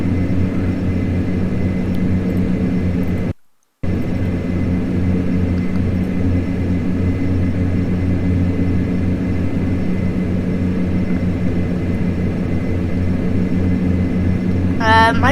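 Flybe Dash 8 (DHC-8 Q400) turboprop airliner climbing in Flight Simulator X, a steady loud droning propeller and engine hum that holds evenly throughout, with one brief dropout near the start.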